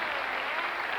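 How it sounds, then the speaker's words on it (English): Warm applause from a studio audience on a 1984 British TV game show, a dense even wash of clapping heard alone for a brief moment. "Nice warm round of applause."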